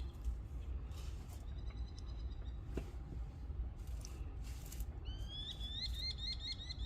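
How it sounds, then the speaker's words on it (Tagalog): A bird sings nearby in short whistled phrases, becoming louder and more rapid toward the end over a steady outdoor hum. "Lakas ng tunog ng ibon."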